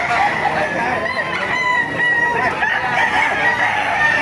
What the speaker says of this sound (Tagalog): May mga manok kayo dito sa Baliwag.